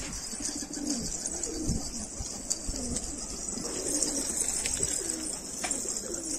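Pigeons coo softly at a pigeon coop, low repeated calls over a steady background hiss, with faint fluttering and no talk.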